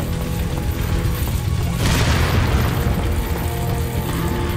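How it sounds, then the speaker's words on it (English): A deep booming explosion in the video game Resident Evil 4, a loud, rumbling blast that swells in the middle over a dense, continuous background of game noise. "What's exploding, though?"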